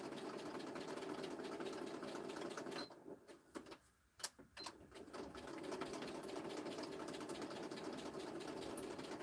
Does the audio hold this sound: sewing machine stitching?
yes